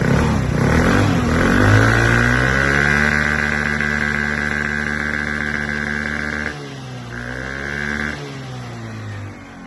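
A Honda Dio AF-68 fuel-injected scooter engine idles steadily with a low, even hum, briefly revving up near the start and dipping once toward the end.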